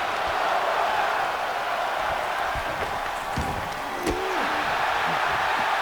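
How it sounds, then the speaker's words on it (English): Crowd noise at a wrestling event, a broad steady roar with faint rhythmic chanting buried in it, plus a couple of thuds and a brief shout near the end. "You can hear the crowd chant one more time a little bit there."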